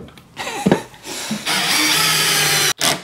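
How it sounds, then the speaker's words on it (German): A screw driven into wood with a power driver, giving short whirring bursts followed by a longer steady grinding drive that stops abruptly, then a brief final burst, close and loud. "Die Schraube setzt sich gerade an und die zieht sich dann einfach schief da rein."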